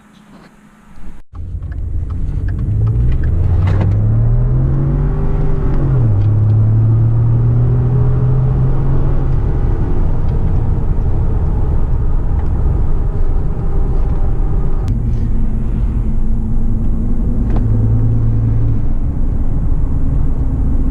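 A Ford F-150 EcoBoost pickup with an aFe aftermarket intake starts and rumbles, then revs and pulls away with rising and falling drones, a deep steady hum while driving.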